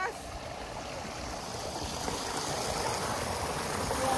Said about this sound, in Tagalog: ang malakas din yung tubig ng irrigation, no?